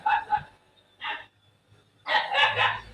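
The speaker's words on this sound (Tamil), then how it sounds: "ஏதோ டாக் கத்துற சவுண்டு கேட்டாலும் கண்டுக்காதீங்க. ஏன்னா அது என் பப்பு தான்" Pet dog barking at another dog on the road during a Bus Simulator Indonesia session, giving two quick barks, a single bark, then a louder burst of several barks, close to the mic over faint background hum.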